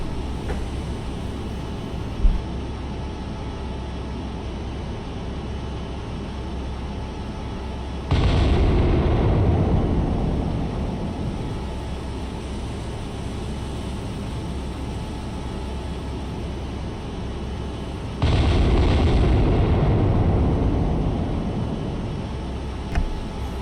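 In the naval video game Cold Waters, battleship guns fire in two heavy booming salvos several seconds apart. Each is followed by a long rumbling decay over a steady low background, with no talk.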